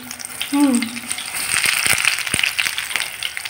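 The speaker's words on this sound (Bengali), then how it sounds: "তেল গরম হয়ে গেছে, ছেড়ে দিলাম, ছেড়েই সরে এসেছি" Snacks dropped into hot oil on a home stove in a Bengali kitchen, giving a steady broad sizzle and crackle with a brief tonal squeak near the start and a few sharp pops.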